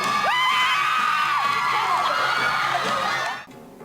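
Crowd of high-school students cheering and shouting loudly at a ballet versus hip-hop dance battle performance, a dense, sustained roar with whoops that cuts off sharply near the end.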